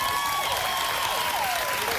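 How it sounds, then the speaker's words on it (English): A studio audience applauds in a steady, dense wash of clapping and cheering that stays even for two seconds. "Listen to that applause."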